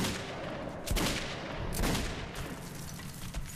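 Gunfire in the video game Metro 2033 Redux: two heavy, booming bursts about a second apart over a dense, noisy game soundscape, loud and close.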